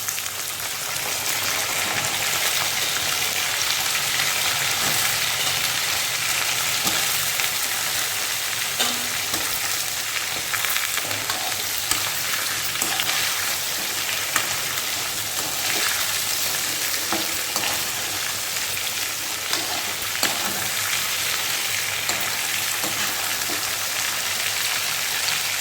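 Potatoes frying with garlic in a pan keep up a loud, steady sizzle and crackle for the whole stretch, with occasional faint clicks of stirring and no talking.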